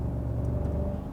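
A Genesis G80's engine sound generator in low mode, enhancing a 4-cylinder gasoline engine during a night drive, gives a steady, low, close rumble with a faint whirring hum and no speech.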